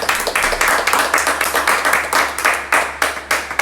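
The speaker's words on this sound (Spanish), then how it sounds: "damos un aplauso al Señor, aleluya." A church congregation claps together in a steady, fairly quick rhythm of loud, close clap bursts, praising the Lord during a service.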